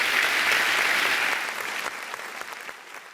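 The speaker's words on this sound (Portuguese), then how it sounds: "aplaudindo o Rei dos Reis." A church congregation at a televised religious service applauds: dense, sustained clapping from many people that gradually thins and fades over a few seconds.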